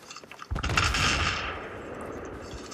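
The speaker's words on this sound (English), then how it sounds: "I'm getting a lot of this sniper fire over the top" Sniper fire on the Gulf of Oman map in Battlefield 3 lands as a sharp, loud shot with a ringing crack that fades over about a second, followed by faint ambient battle noise.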